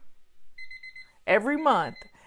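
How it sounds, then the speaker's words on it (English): A kitchen timer alarm sounds a short series of rapid electronic beeps, then a person speaks briefly nearby. "So there's the timer."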